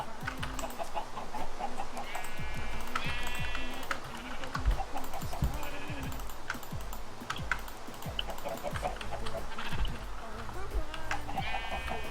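Chickens clucking in the video game Terrapuppercraft, brief repeated clucks and squawks scattered over steady keyboard typing and background game noise.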